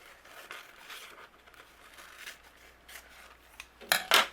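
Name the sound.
cutting paper with scissors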